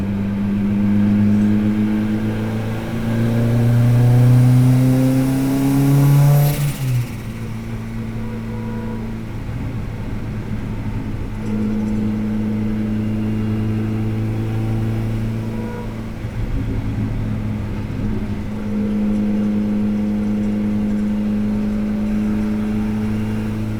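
A 700hp Honda S2000 engine revs hard, climbing to a loud, rising whine and then dropping sharply. It settles into a deep, steady idle with a few lighter blips of the throttle, close and with no voices.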